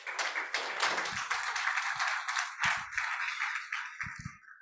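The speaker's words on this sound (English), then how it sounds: "please, another round of applause to our very dear colleagues from SAQA" Steady applause from a crowd at a training conference, dense clapping that holds for several seconds before thinning out toward the end.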